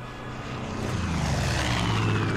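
A propeller airplane drones overhead in Far Cry 5, a steady, loud engine hum that swells slightly as it passes, with no talk over it.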